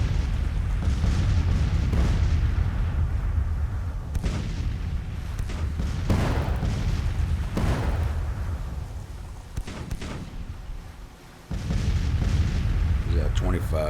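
Artillery fire in the strategy game Grand Tactician: The Civil War, with repeated heavy booms in an irregular rhythm over a dense, steady rumble of battle noise.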